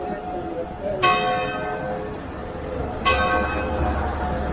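Two strikes of a church bell ringing noon about two seconds apart, each ringing out and decaying over a steady murmur of street noise in Catania, Sicily.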